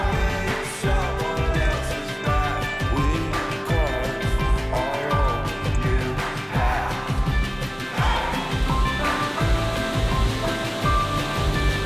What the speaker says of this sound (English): I'm going to take you to a local waterfall.